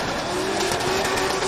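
Drift cars at the Oman International Drift Championship in a top-32 pair race, engines droning at high revs under a sustained tire squeal, loud and continuous with no voices.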